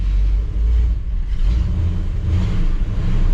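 A 1959 Chevrolet Bel Air engine idles while warming up, a loud, steady, close rumble with slight rises in revs and no talking.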